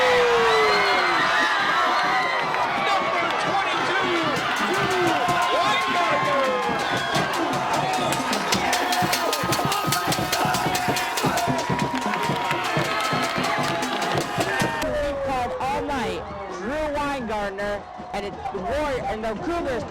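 A high school football stadium crowd roars and cheers after a touchdown, a loud sustained din of shouts and whistles with scattered clapping, while a commentator talks over it throughout.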